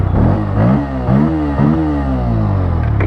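A Bajaj N160 motorcycle engine revs close by, rising and falling through several throttle blips over a steady idle, with a loud, buzzy exhaust note and a sharp clatter at the very end.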